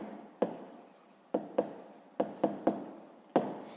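Handwriting on paper during a sixth-grade maths exercise: a series of close, sharp pen or pencil strokes and taps in an irregular rhythm, each followed by a short scratch, in a quiet room.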